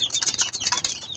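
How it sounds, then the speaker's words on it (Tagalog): A breeder pigeon in a cage, with a burst of flapping wings and rustling close by, then a few quick, irregular flutters. "yung blue bar na pagulang ni Basag, yung ating ibon na binasagan ng ring"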